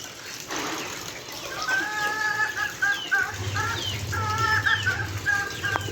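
Several chickens clucking and calling in short repeated bursts nearby, with a low hum running underneath through the second half.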